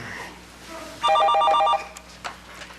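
An office telephone rings in one loud electronic burst of rapid repeated tones lasting under a second, then stops, leaving quiet room tone with faint small clicks.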